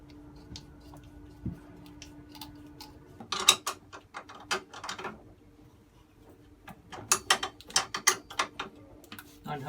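Wrench working loose the motor mounts of an old Yanmar engine inside a sailboat's cramped engine bay: bursts of quick metallic ratcheting clicks in two clusters, separated by quieter pauses with faint ticks and a low hum.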